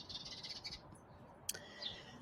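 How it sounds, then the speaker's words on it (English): Birds chirp outdoors in short bursts of high, thin calls, with a brief sharp note midway and another call near the end, fairly faint and distant against a quiet background. "I'm sitting outside so you can hear the birds this video."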